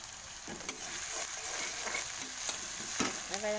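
Onion paste with salt fries in a pan for an omelette curry, a soft steady sizzle broken by a few scraping stirs, close and quiet with no talking.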